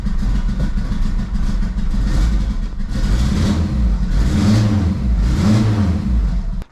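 A triple-turbo Honda Civic engine runs rough and misfires, a loud uneven idle with lumpy low-end pulsing and repeated revs rising and falling, then cutting off abruptly at the end.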